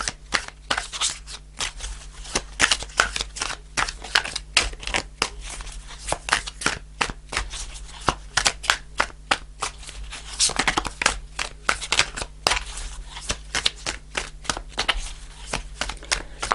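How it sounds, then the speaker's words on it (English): Tarot cards being shuffled continuously, with rapid riffling and flicking close by at a brisk, irregular rhythm over a low steady hum. "I'll do a couple more shuffles."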